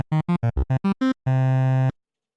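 A Bitwig Grid synthesizer with sine-mod phase shaping sounds a quick run of seven short, evenly spaced tones at varying pitches, then one longer sustained note that cuts off abruptly, followed by silence.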